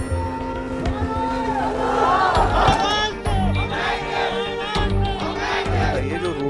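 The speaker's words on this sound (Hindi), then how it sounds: "रास्ते पर एक भीड़ जुटी थी" A crowd gathered on a road and blocking it, some holding sticks and stones, makes a steady, loud murmur of many voices with raised shouts. Tonal chatter swells and overlaps throughout without a break.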